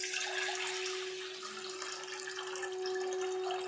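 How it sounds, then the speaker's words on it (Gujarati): Water being poured off soaked urad dal and rice, a close, steady splashing trickle with a faint tonal ring underneath, running without pause. "એમાં આપણે પાણી કાઢી લેશું"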